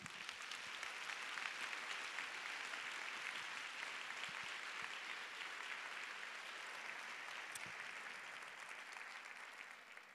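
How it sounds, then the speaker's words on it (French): An audience at a women's evening event applauds steadily and fairly loudly for about ten seconds, a dense wash of many hands clapping without pause. "j'aimerais que vous vous donniez une bonne main d'applaudissement"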